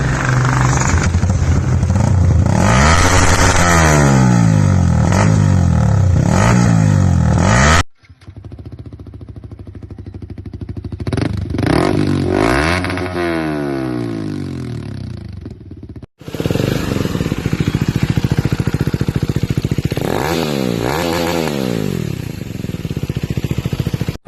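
An aftermarket motorcycle exhaust revs loud and close, the engine note climbing and falling repeatedly across several takes separated by brief cuts.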